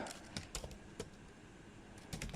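Typing on a computer keyboard during data entry: a few soft, scattered key taps, close and faint.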